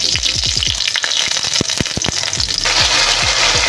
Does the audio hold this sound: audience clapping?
no